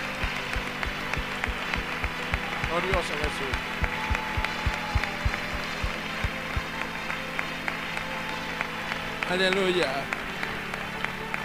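Congregation at an evangelical church service clapping in a steady, rhythmic beat for several seconds, with a preacher's amplified voice and exclamations over the claps.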